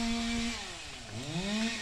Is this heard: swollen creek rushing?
no